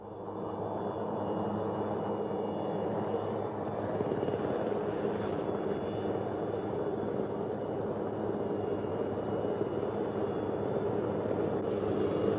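A helicopter flies out to resupply a jungle patrol, its engine and rotors a continuous, steady drone that holds an even level throughout with no voices.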